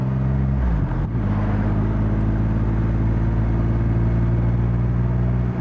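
A 2020 Triumph Rocket 3 R motorcycle engine runs loud and close while riding, a steady low rumble with strong harmonic hum that briefly dips around the one-second mark, then holds an even, powerful drone.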